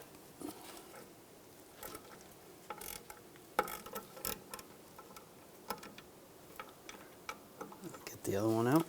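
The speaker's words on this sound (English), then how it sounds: "Using a E8 socket, we're going to take the two bolts out." A ratchet with an E8 socket works brake bolts loose on a 2005-2006 Chevrolet Silverado 1500 rear wheel cylinder, with scattered faint clicks and knocks, then a short louder ratcheting burst at the end.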